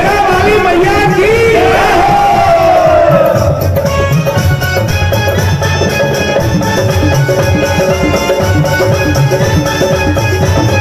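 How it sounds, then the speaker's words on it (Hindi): A crowd at a Shri Durga Shakti temple kirtan in Raikot shouts a devotional jaikara for the Mother Goddess, many voices loud and continuous with music sustained underneath throughout. "सारे रल मिल के बोलो जयकारा माई दा"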